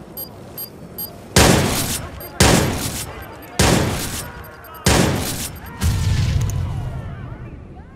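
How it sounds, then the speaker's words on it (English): Grenade blasts in the Watch Dogs video game: four loud, sharp explosions roughly a second apart, then a longer rumbling detonation with debris, over a background of faint gunfire. "Grenade going in."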